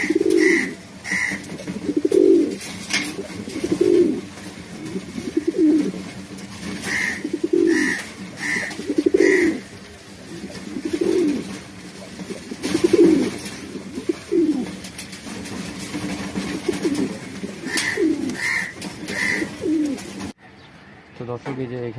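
Racing pigeons at a pigeon farm coo in a steady rhythm, with repeated soft, throaty calls every second or two that are close and clear, until the sound cuts off just before the end.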